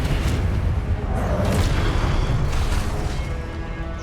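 A Confringo explosion spell fired in the video game Hogwarts Legacy: a dense, loud, booming blast that rolls on as a continuous rumble through the clip.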